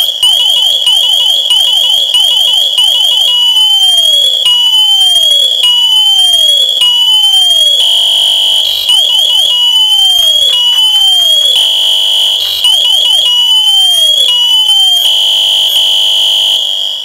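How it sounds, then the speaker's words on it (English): An SCBA PASS device in emergency phase sounds its alarm at full volume: a loud, close, continuous electronic pattern of shrill high tones and repeated downward sweeping chirps cycling for many seconds without pause, alone with no voices. "Once the unit reaches the emergency phase, the pass device should not be able to shake that alarm off."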